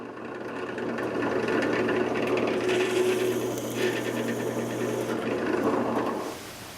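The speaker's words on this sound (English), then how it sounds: "I took the insert over to the drill press and drilled the holes for the screws that will hold it in place." Drill press boring screw holes through a wooden miter saw insert in a workshop, a steady whirring motor with grinding, rasping bit noise that shifts partway through, close and continuous before winding down at the end.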